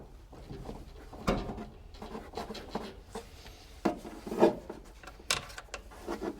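A radiator hose on a 1973-87 GM truck is cut off, heard as close scraping and rasping cuts with a few sharp snaps and knocks at irregular intervals, and nobody speaking.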